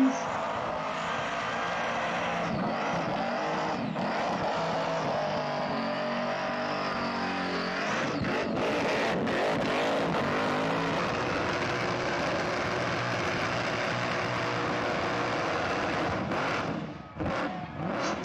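Burnout competition car engine revving hard at a car event, a sustained loud roar that rises and holds with bursts of acceleration, under crowd noise and excited talk.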